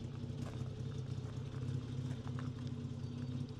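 A 1956 Jaguar XK140 SE's 3.4-litre six-cylinder engine runs steadily at idle, a low, throaty hum with faint clatter, continuous and fairly quiet, with no voices.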